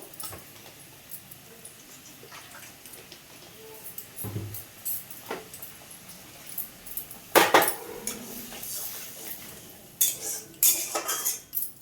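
A spoon clinks and scrapes against a pan while stirring chilli paneer sauce, with sporadic sharp metallic taps and clatter close by and no talking.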